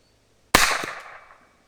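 A cheap pistol-style golf ball launcher bought on eBay fires one sharp, loud pop after a moment of silence, the crack ringing out and decaying over about a second.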